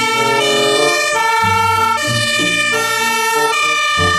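Toy fire truck sounding a loud electronic siren, a wailing two-tone pattern that repeats steadily up close with no talking.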